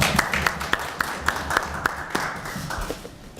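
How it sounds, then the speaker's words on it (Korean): Scattered audience clapping in a Korean legislative research forum on German regional development policy, a loose patter of individual claps rather than a full ovation, steady and moderately near over a low room murmur. "그럼 박수로 환영해 주시기 바랍니다."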